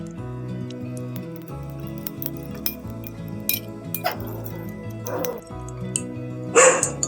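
Darby the dog barking in a home kitchen, a few scattered barks mixed with clinking cutlery and dishes, over quiet background music.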